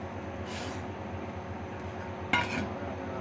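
Broken moong dal is stirred as it dry-roasts in a pan, with faint steady scraping and a brief metallic clatter of the spoon against the pan near the end, all quiet with no talk.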